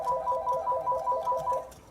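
Telephone ringing in a home kitchen while brownies are being made, a steady repeating electronic trill pulsing in short, even bursts at moderate loudness, with no voices.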